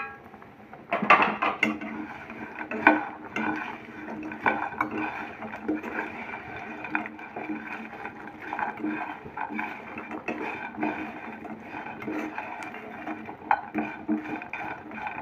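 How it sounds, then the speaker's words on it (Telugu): Fried idli pieces are tossed into a pan of turmeric-tinged oil and stirred, with repeated clinks and scrapes of a utensil against the pan in a steady rhythm, fairly close and moderately loud. "పసుపు కూడా కొద్దిగా వేగిన తర్వాత ఫ్రై చేసి పెట్టుకున్న ఇడ్లీ పీసెస్ని వేసుకుంటున్నానండి"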